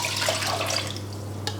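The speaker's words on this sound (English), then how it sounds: "measured 2 cups of quinoa into a colander, and now I'm going to really rinse that well" Two cups of quinoa rinsed in a colander under a running kitchen tap, a continuous close splash of water over the grains, steady and alone without talk.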